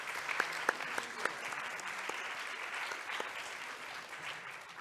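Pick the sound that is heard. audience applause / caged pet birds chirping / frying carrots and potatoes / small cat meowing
audience applause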